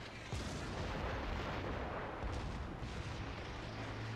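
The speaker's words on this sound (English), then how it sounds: "Why is Atlantico shooting at him?" Naval gunfire from warships in World of Warships: Legends rumbles in a low, continuous barrage of distant booms, heavy and sustained with no voices over it.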